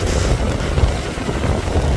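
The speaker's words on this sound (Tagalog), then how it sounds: "Napakalakas ng hangin." Strong wind near the shore buffets the microphone, producing a constant low, rumbling roar with gusty swells and no voices over it.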